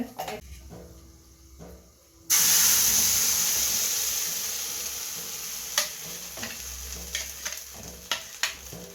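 Garlic tempering for a homemade chutney bursts into a loud, hissing sizzle in a hot pan after a quiet start. It slowly settles into steady frying, with a few sharp clinks of stirring toward the end.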